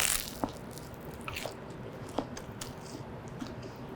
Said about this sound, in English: all of the bites of the cabbage and the crunch